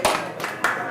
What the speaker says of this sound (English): Clap twice if you can hear me.